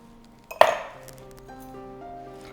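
Ice cubes drop into a glass for a mango lassi, a single sharp clinking clatter followed by a short ringing decay, close and fairly loud against a quiet background.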